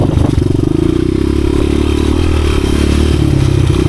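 A 1986 Honda XR200R dirt bike engine running steadily while being ridden, with its single-cylinder thump holding at an even, loud level close to the microphone, plus some clatter and wind.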